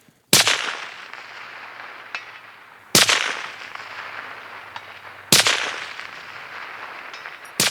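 Three loud, sharp rifle shots from a 6.5x57R rifle fired at a target, about two and a half seconds apart, each with a long ringing decay and no talking.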